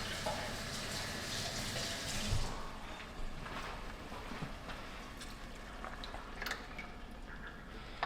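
Tap water running steadily into a kitchen sink to rinse leftover tomatoes while making extra crispy chicken Parmesan, a continuous close gush with small splashes and clinks throughout.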